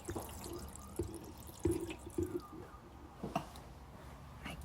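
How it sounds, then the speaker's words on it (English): Water poured into the 6-litre water tank of a portable countertop dishwasher, heard as quiet splashing and dripping with a few sharper sloshes and knocks spread over several seconds. "pouring this into the water tank here that it sits on."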